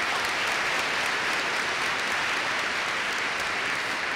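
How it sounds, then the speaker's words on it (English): An audience at a spring graduate commencement ceremony applauds, a dense, even wash of clapping from many hands that holds steady for the whole stretch. "Please give Justin Jacobs a round of applause"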